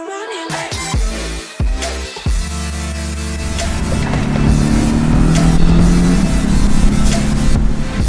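A Porsche's engine revs up and accelerates on a high mountain road in Maui, starting with a few choppy bursts and then settling into a sustained, loud, steady drone close by.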